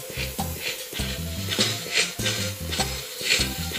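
Burger patties sizzling on a griddle in a burger-shop cooking video game, a bright frying hiss layered with repeated short clinking and tapping effects at a steady rhythm, loud and close.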